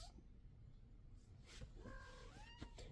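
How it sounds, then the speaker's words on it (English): A cat gives a couple of soft meows near the end over a faint background hiss, with a brief rustle just before. "Cats."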